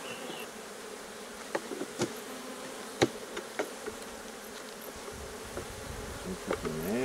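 Honey bees hum in a dense, steady drone around an opened Layens hive with Hoffmann frames, close and continuous, while a few wooden knocks and bumps from handling the frames and closing the hive break through.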